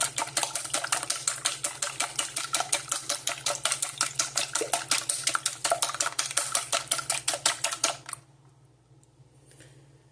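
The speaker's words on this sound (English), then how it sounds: "By whipping in circular motions, you're putting air into the eggs" Rapid, steady clicking taps of a whisk beating eggs in a bowl, a fast even rhythm close up for about eight seconds before stopping abruptly, leaving a quiet hum.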